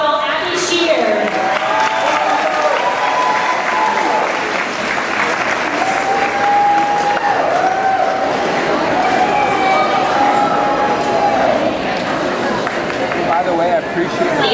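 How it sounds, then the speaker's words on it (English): Loud, sustained applause and cheering from an audience at a garbage bag fashion show gala as a third-place winner and her model are honoured, with crowd chatter mixed in. "Give them a round of applause."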